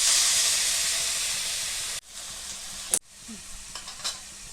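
Mustard seeds, curry leaves and cumin hit hot oil with a loud hissing sizzle that slowly fades, then breaks off into quieter spluttering and a few sharp spoon knocks as potatoes are stirred in, close up with no talk.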